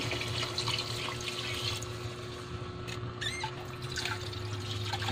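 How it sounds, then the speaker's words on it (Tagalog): Water runs steadily into a cooking pot of arroz caldo, a rice porridge with pork intestines. The pour is a soft, continuous splash and trickle, heard alone with no talk. "lagyan na natin ng tubig"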